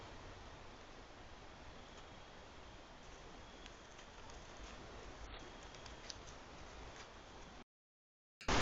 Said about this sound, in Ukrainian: через пару днів у нас пішов дуже сильний дощ